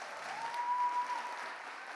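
Steady applause from a church congregation during a sermon on man, woman and unity, a soft, continuous wash of clapping that swells briefly in the middle and carries on evenly to the end.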